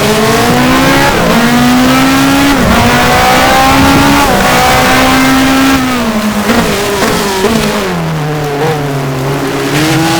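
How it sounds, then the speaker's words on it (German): A Formula 1 race car in the F1 Challenge video game, at the rainy 1986 US Grand Prix in Detroit, pulls into the pit lane. Its engine whines loud and steady, with the pitch sliding up and down, and no one speaks. "Ricardo Patrice. Fährt in die Boxgasse"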